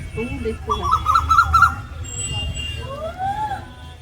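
At dusk in a breezy open rural spot, an owl gives a short run of wavering calls followed by a rising, drawn-out note, while a voice talks over soft background noise.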